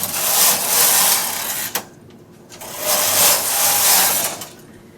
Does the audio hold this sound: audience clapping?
no